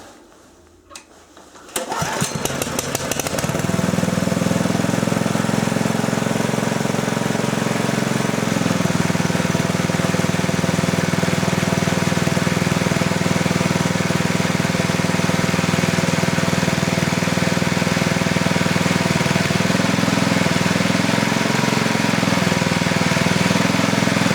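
A homemade generator built from an asynchronous electric motor starts up after a brief quiet moment and settles into a steady, loud, droning hum that runs unbroken to the end.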